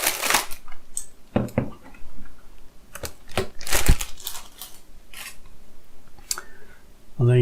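A shiny plastic bag holding a Razer Huntsman Mini keyboard crinkles and rattles while it is unboxed, giving close, irregular rustling bursts and crackles with a few brief pauses.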